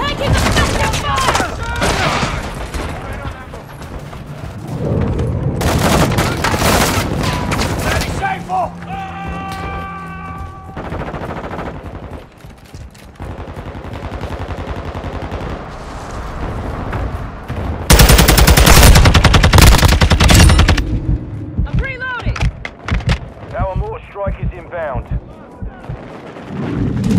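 Heavy gunfire and explosions from Call of Duty MW2 multiplayer combat, with loud bursts, rapid automatic fire and booming blasts running throughout, mixed with game radio chatter and shouted voices.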